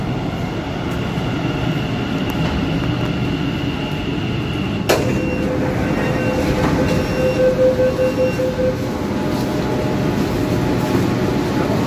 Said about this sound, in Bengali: দেখো বন্ধুরা, আমাদের ট্রেন কিন্তু মেট্রো ট্রেন দাঁড়িয়ে রয়েছে।